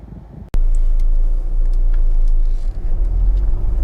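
A Honda Civic 1.6 i-DTEC EX diesel five-door on a road test cuts in after a sharp click, then a steady low engine and road rumble from inside the cabin, loud and continuous.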